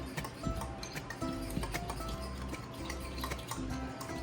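Butter chicken ingredients stirred together in a bowl, a steady run of soft scraping and clicking from a utensil against the bowl, close and continuous without talk.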